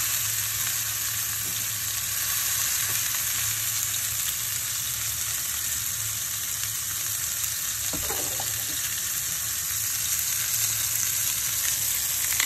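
A smashed burger patty for a homemade spicy double cheeseburger sizzles loudly and continuously on a hot griddle, a dense, even hiss that holds for the whole stretch without any talking.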